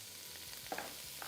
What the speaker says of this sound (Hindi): इसको फ्राई किया पहले।